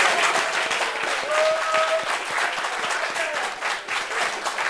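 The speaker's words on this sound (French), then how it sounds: "On applaudit pour eux." Sustained audience applause at a French televised gathering, dense and steady throughout with a brief tonal squeal in the middle, no talk over it.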